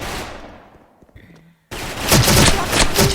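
Gunfire in the online shooter Special Force, where a fading burst gives way to near silence before loud rapid automatic shots crackle back in, with a voice talking underneath.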